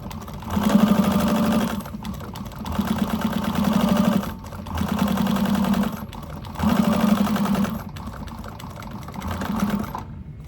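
Domestic sewing machine top stitching a fabric bag, running in four or five steady bursts of a few seconds each with short pauses between, close and fairly loud with no talk.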